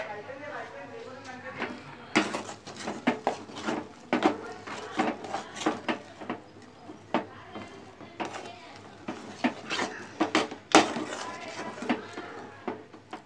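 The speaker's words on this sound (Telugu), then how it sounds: "ఈ విధంగా గట్టిగా కలుపుకుంటూనే ఉండాలంటండి అది పచ్చివాసన అంత పోయే వరకు" Thick gram flour dough being stirred hard in a pan gives repeated scraping knocks and clattering strokes at an uneven rhythm, close by, with a voice talking over it.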